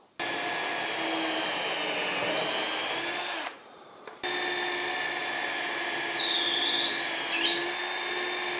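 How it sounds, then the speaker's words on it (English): A power drill bores holes through a UJK Parf guide stick clamped with two pins, whining loud and close in two sustained bursts separated by a short pause. "I can now go ahead and drill these holes"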